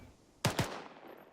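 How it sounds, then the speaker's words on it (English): A rifle fires in rapid mode in the video game Arma 3, two sharp close shots in quick succession with a fading tail and no talking. "for rapid firing mode, rate of fire will sound like this."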